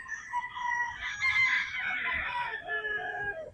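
A Gilmore Hutch or Boston Roundhead gamefowl rooster lets out one drawn-out crow lasting about three seconds, clear and fairly close.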